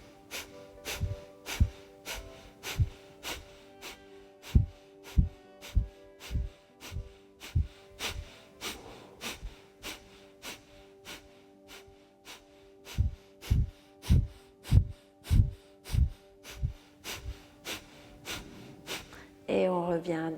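Rapid, forceful yoga breaths with sharp abdominal contractions puff out in quick bursts, one after another at a steady rhythm, pausing midway before a second fast round and ending as breathing settles into a calmer pace during a detox session.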